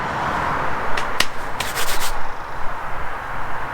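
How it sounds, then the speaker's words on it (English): A power buffer polishes the edge of a car bumper, an E36 M3 bumper fitted with an IS300 lip, giving a steady close whirring rub with a few brief sharper scrapes partway through. "I just need to use the buffer to clean up the edge and clean up the whole bumper."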